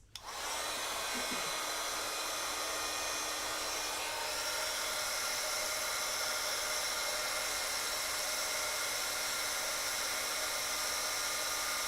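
A heat tool blows hot air to melt embossing powder for a card-making project, a steady close whirring blower hiss that starts abruptly and runs without a break, with no speech.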